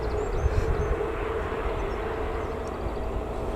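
A Ryanair airplane taxis at Newcastle Airport, a steady low engine rumble and whine carried from a distance, constant throughout with no talk.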